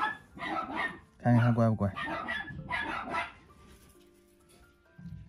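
A Shiba Inu puppy gives a short burst of barking and yipping while people talk nearby, in a setting where it is being vaccinated.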